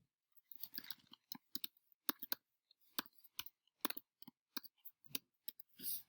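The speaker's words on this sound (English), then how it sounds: "So we're going to type this into Desmos." Quiet, irregular clicks of a computer keyboard as an equation is typed into Desmos, individual keystrokes tapping in uneven bursts close to the microphone with no talking.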